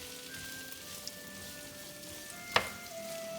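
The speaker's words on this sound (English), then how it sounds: "Mix that all up." Sausage and peppers seasoned with kosher salt and black pepper fry quietly in a pan on medium heat, a faint steady sizzle with one sharp utensil clink partway through.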